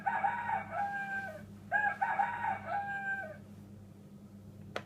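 A toy rooster plays an electronic crowing sound, two drawn-out cock-a-doodle-doo calls in a row, clear and close, followed by a faint click and quiet.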